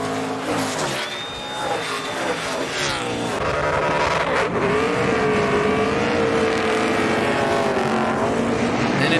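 A NASCAR Xfinity race car does a burnout at Portland, its engine roaring loud and sustained with squealing tires, while a commentator talks over it.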